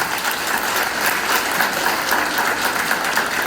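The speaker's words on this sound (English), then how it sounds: "one more big round of applause for our three guest speakers this evening" Steady, loud applause from a crowd, continuous clapping throughout with no voices.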